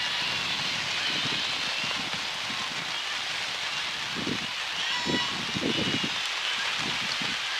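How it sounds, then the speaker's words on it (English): Heavy rain pours down steadily over an outdoor softball field at D&M Park, Plymouth State University, a dense constant hiss with scattered low thumps and patters close by and no talk. "the rain coming down even harder here at D&M Park"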